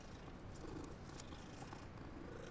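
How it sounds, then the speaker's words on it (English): A cat purrs in the video game Hogwarts Legacy, a steady, soft, continuous rumbling purr with no talk. "Why do the cats sound like they have accents?"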